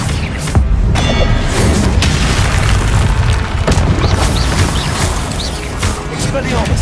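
Fire-spell blasts in Hogwarts Legacy on PS5 thunder through loud, crowded combat as booming bursts and crackling impacts, repeated rapidly amid other spell effects and shouted incantations.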